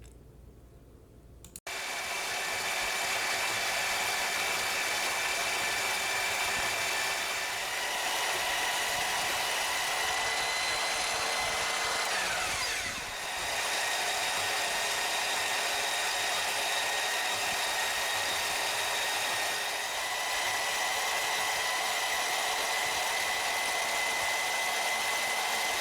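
A power tool cuts the mounting ears off a metal drill press vise, a loud, steady high-pitched grinding whine running continuously close by, with one brief dip partway through.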